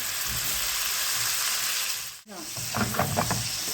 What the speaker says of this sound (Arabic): نديرو نخلي الثوم تتقلى شويه هكذا غير بالعقل